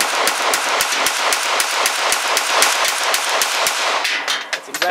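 A PM-63 submachine gun fires a full magazine in one rapid burst of sharp, evenly spaced shots, loud and close, tapering off into a few scattered clanks at the end.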